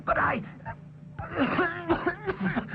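A voice clears its throat and coughs a few times, rough and close, with some vocal groaning mixed in.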